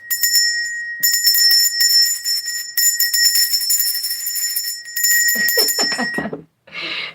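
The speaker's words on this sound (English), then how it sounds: "That does deserve the ringing of the bell." A bright bell rings in repeated sustained bursts with short gaps, then a brief different chime at the end.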